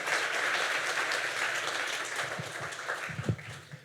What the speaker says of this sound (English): Let's just give Darlene another round of applause